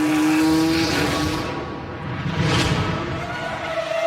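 Formula One car at speed approaching Tamburello Bend in a reconstruction of Senna's approach at nearly 230 km/h, a loud high-pitched engine whine that shifts pitch and dips briefly before surging again.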